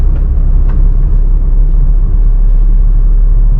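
A car's engine rumbles steadily with deep road noise from inside the cabin during beginner driving practice and gear changes. A few faint clicks sound over the constant loud low drone.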